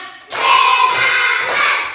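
Students in a classroom clapping hands for a counting rhythm game, a brief spoken cue followed by loud, dense group claps in two bursts.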